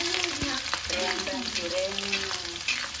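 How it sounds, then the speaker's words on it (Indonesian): Sambal frying in a pan for a Javanese home-cooked jangan tewel (young jackfruit) dish, a steady close sizzle with occasional stirring scrapes, with faint background voices. "Kita goreng."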